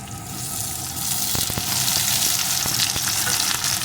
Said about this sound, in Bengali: আলুটা সুন্দর করে ভেজে নিয়েছি এখন এর ভিতরে আমি দিয়ে দেবো একটা টমেটো কুচি